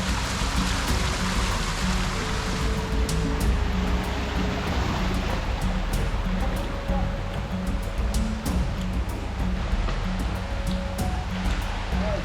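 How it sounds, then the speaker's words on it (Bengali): A large waterfall and its rocky stream produce a dense, constant rush of falling water that fills the whole scene, steady and loud with no break and no voices. "এদিকে যেই ঝর্ণাটা আছে সেটা অনেক বড়"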